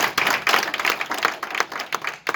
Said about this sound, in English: clap for Gillis more